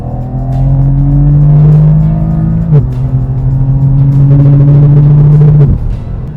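A BMW M4 CS accelerates hard along an open road, its engine note rising steadily through the gears with two sharp shift breaks, loud and close from inside or near the car.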